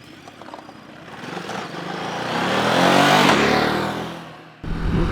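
A 2023 Ducati DesertX adventure motorcycle pulls away, its engine note rising and swelling as it revs and accelerates, then cutting sharply near the end.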